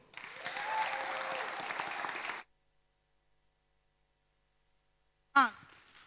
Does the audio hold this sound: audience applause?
yes